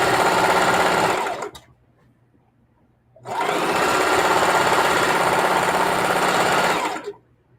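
A sewing machine stitches the edges of a fabric pillowcase in two loud, close, steady whirring bursts, separated by a short pause, with no talking.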